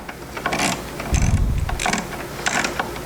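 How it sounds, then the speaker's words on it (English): Torque wrench tightening the last new spark plug on an engine during a plug change, giving a few bursts of rapid ratcheting clicks with a heavier mechanical clunk midway, close and fairly loud with no talk. "We're going to torque it down."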